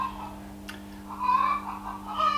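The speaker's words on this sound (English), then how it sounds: "The chickens have started laying their eggs for today." Chickens clucking outside on a countryside property after laying their eggs, a few calls rising and falling at moderate distance over a steady low hum.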